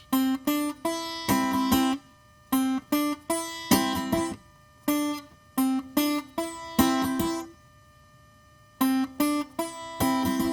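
Strummed string chords in short double bursts, thumbnail then finger, a quick pair of strokes repeated in a steady rhythm with brief pauses between groups.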